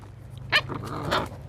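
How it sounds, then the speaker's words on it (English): A pet dog lets out two short close barks with a low growl between them, loud and alone in a quiet room. "What are you barking at?"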